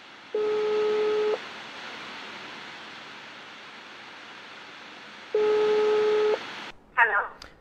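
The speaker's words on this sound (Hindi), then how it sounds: "आइए हम आपके साथ मिलकर लाइव में ये दो चार टेलीफोन कॉल घुमाते हैं" Telephone line tones during a live call: two long ringback tones about a second each, separated by hissy line noise, close and clear, followed by a short burst of distorted sound.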